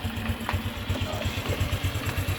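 A Honda Wave CX 110 motorcycle engine idles close by with a steady, rapid low-pitched chugging pulse, running continuously without speech.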